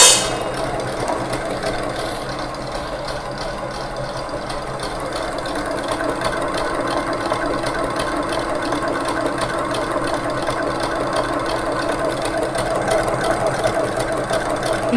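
Electric hand mixer running steadily at speed 8, whipping egg whites in a bowl set over ice, a continuous whirring motor drone with beaters churning, loud and close throughout with no talking.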